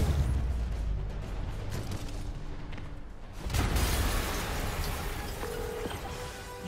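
A sudden explosion in the Spider-Man video game bursts in midway through quieter mechanical rumbling and creaks, a loud broadband boom followed by a lingering roar and crackle.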